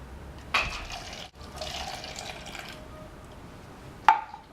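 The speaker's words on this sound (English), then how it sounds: "put in about 1/4 cup of water into each cup" Water is poured into cups, about a quarter cup each, giving a short trickling fill, a pause, then another steady pour ending in a brief clink, close and with no speech.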